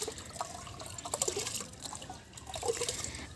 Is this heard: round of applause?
no